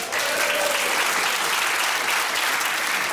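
A studio audience at a British comedy panel show bursts into dense, sustained applause and cheering, a thick wash of clapping that stays loud and even throughout.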